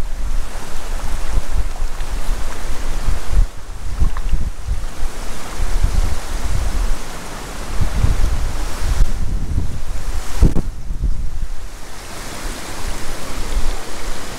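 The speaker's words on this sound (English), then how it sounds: "That wind is unpleasant." Strong wind buffets the microphone beside a Colorado mountain stream while fly fishing for Rio Grande cutthroat trout, a loud continuous roar with gusts over rushing water and no speech.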